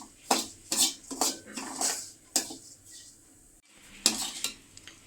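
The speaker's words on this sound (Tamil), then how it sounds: "ரவை எடுத்துக்கலாம். ஒரு ஸ்பூன் நெய்யில் போட்டு நல்லா வறுத்துக்கலாம்." Semolina roasting in ghee in a pan, with a series of distinct scraping strokes from a spoon or spatula over a faint sizzle, the strokes irregular and fairly close; no talking.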